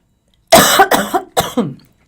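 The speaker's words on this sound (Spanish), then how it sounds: "Estoy con una tos alérgica que me ha afectado" Allergic coughing from a person, three sharp close coughs in quick succession, loud and dry, against silence.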